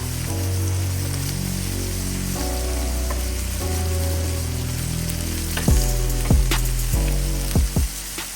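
Jalapenos sauté on a Blackstone griddle with a loud, continuous close sizzle and crackle, a spatula tapping and scraping a few times toward the end, no voices.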